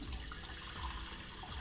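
Tap water running steadily into a cooking pot to make pasta water in a home kitchen, a continuous close splashing rush with no pauses and no talk over it.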